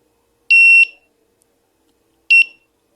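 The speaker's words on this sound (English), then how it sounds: "So we are going to set the smoke detector." An industrial smoke detector alarm sounds two loud, piercing electronic beeps, each lasting under half a second, separated by a pause of well over a second against silence.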